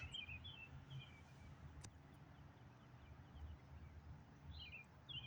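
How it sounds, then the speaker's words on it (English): Small birds perched on power lines chirp faintly at a distance, a few brief high tweets scattered over a low, steady outdoor rumble. "Hear the birds?"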